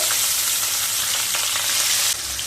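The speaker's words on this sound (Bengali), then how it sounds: "এবার মাছগুলোকে দিয়ে দেব।" Koi fish frying in gently heated oil in a pan, giving a steady, dense, close sizzle that runs the whole time, easing slightly near the end, with no talking.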